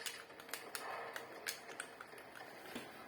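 Computer keyboard and mouse clicks during gaming, a quiet run of sharp irregular taps and clicks at close range with no talking.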